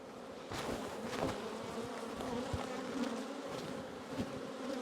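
Honeybees buzz steadily around an open hive during an inspection, a close, continuous drone with a few brief louder passes.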